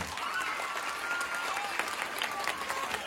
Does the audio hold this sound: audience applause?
yes